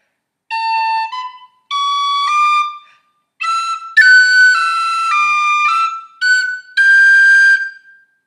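Solo tin whistle plays a run of the Irish tune Cailleach An Airgid, a string of tongued phrases separated by brief breaths, shifting between higher and lower notes, bright, close and unaccompanied.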